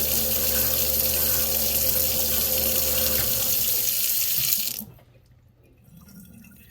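Water runs steadily from a tap into a kitchen sink fitted with a MOEN EX75C garbage disposal, a loud continuous rush that cuts off abruptly near the end, leaving a faint low hum.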